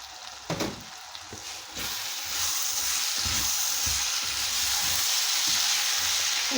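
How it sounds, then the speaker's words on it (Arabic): Raisins sizzling with sautéed onion in a hot pan, a steady broadband frying hiss that swells and stays loud throughout, with a few soft stirring knocks near the start and no talk. "من بعد ما تقلات لي شويه البصله غادي نضيف لها الزبيب"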